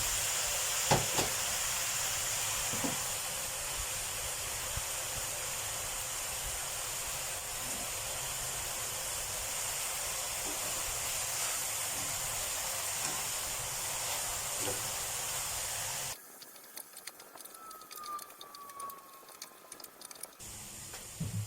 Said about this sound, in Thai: กระทะร้อนแล้วนะ ก็จะใส่ลงไปนี่ครับ